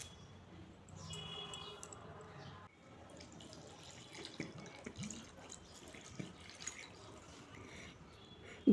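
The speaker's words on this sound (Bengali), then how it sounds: "পাতাগুলোকে আমি কয়েকবার ভালো করে ধুয়ে নিয়েছি।" Tap water running while bottle gourd leaves are washed, a faint, uneven splashing and trickling close by, with light handling noises and a sharper knock at the very end.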